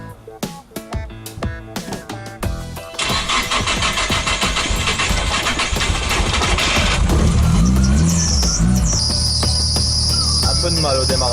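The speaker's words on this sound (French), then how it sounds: "premier démarrage à froid depuis qu'on a fait la carto, j'espère qu'elle va démarrer" A car engine struggles through its first cold start after a remap, with repeated cranking clicks before catching and revving loudly up close, then settling into a steady run.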